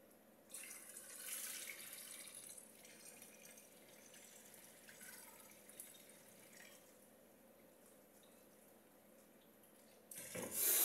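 Water running from a tap into a pot of rice for kabsa, a steady faint splashing flow with no one talking, ending in a louder knock and rush.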